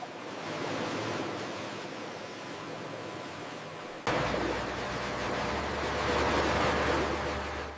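Water rushes steadily over banana stems tumbling in a rotating industrial washer, a continuous broadband wash that grows louder and denser partway through, with no voices.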